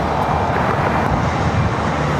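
Steady, even jet engine roar from an airliner taxiing at Los Angeles LAX airport, a broad continuous rumble with no distinct peaks throughout and no voices.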